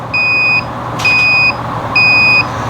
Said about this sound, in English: now it's starting to slow down the beeping